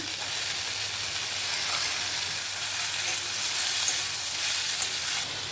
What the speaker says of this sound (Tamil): வரமிளகாய் கருவேப்பிலை போட்டுக்கலாங்க. கொஞ்சம் வதக்கலாம்.